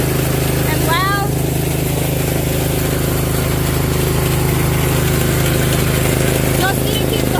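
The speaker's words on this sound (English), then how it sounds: "As long as we keep the hood up, the Duramax works good" A Duramax diesel truck engine runs loudly with the hood up, a steady heavy drone throughout with a constant low hum, while a voice talks over it briefly near the start and end.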